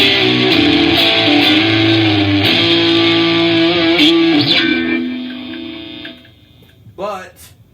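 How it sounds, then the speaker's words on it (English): Heavily distorted electric guitar through a Fender Princeton 650 amp with the drive cranked high rings out loud and thick, sustaining for several seconds before fading, followed by a short scrape of noise. "You can crank the drive up really high so you get a lot of distortion"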